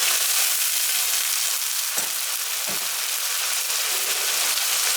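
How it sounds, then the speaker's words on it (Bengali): Hot water poured into a pan of golden fried onions sets off a loud, steady sizzle that holds throughout, with a couple of small knocks and no talking. "এখন একটু গরম পানি দিয়ে দিচ্ছি।"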